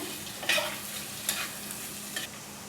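A spoon stirs fried peanuts, cashews and grated dry coconut in a pan for vermicelli upma, giving a soft steady sizzle with a few scraping strokes at a close, quiet level.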